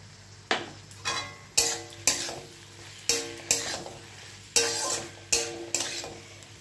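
Spices and tomato fry in a pan for a tangra fish chachchori, a soft sizzle running underneath while a spatula scrapes and clanks against the pan in a steady series of about a dozen sharp strokes.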